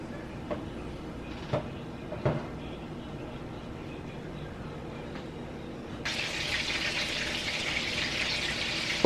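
Turkey burger patties frying in a preheated skillet give off a steady, soft sizzling hiss. It grows noticeably louder and brighter partway through, with a few faint clicks early on.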